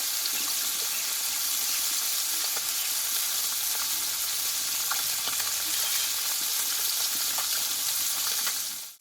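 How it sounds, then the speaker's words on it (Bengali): A couple of small fish sizzling in oil in a wok, a dense, even frying hiss with light pops heard up close, continuous until a sudden cutoff at the end. "মাছটা খুব অল্প আছে আমি ধীরে ধীরে দুই পিস ভালো করে ভেজে নেব"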